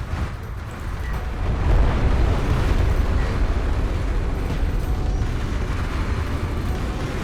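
The hero gunship being destroyed in the Homeworld: Deserts of Kharak video game, a sustained rumbling explosion with crackling, grinding mechanical debris, loud and continuous with no talk.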